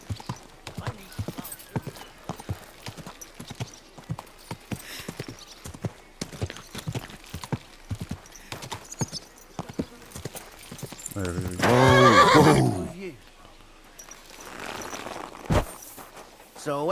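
Steady clip-clop of hooves on hard ground runs throughout, with a horse's whinny rising near the end over a faint backdrop in the video game Kingdom Come: Deliverance 2.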